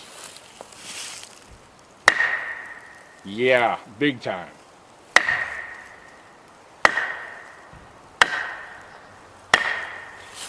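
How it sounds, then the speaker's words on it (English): Sharp knocks on a solid hardwood tree trunk, spaced a second or two apart, each ringing briefly; someone speaks a few words between knocks. "Hardwoods may be the only source of wood that you can produce a tree knock on"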